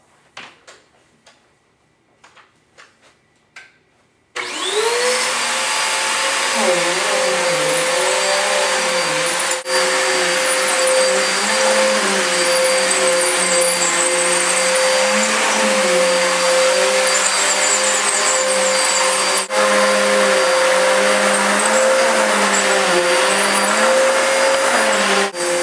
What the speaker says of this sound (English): So vacuum the whole floor.